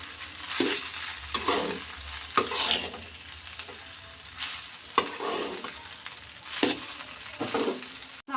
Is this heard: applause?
no